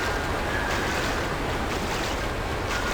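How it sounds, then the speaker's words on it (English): Rushing water ambience in the video game Lands of Lore: Guardians of Destiny, a steady wash of surf-like noise that continues evenly and loudly throughout without speech. "Also, water noises."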